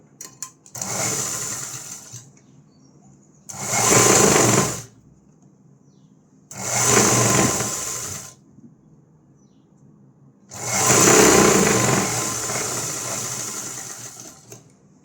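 Sewing machine stitching two pieces of blouse cloth together runs in four loud bursts of a few seconds each, with short quiet gaps between them.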